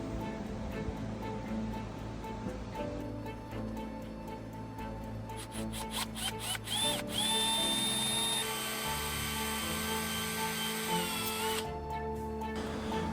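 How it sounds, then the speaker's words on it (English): A drill grinds and whines against metal rivets in an aircraft empennage in uneven bursts, with scraping and rattling between, close by and fairly quiet overall. "I don't know how to drill in here."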